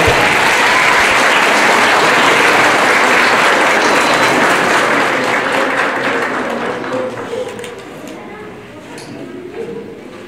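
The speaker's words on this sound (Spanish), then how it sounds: "Les damos un fuerte aplauso a los nuevos esposos" Guests at a wedding ceremony break into loud, dense applause for the newlyweds, sustained clapping that gradually fades toward the end.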